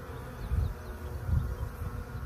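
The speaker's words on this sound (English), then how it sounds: "So there's some bees outside the box. They're gonna be mad no matter what I do." Continuous droning buzz of many honey bees swarming close around a hive, swelling and fading in waves.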